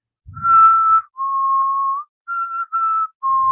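A wrestler's signature whistle rings out loud and clear in five sustained tonal notes, the first few long and the last ones shorter, with a faint rustle at the start.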